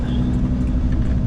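A car's gearbox whines while driving off-road on rough ground, a steady loud low rumble of engine and drivetrain with no talk over it.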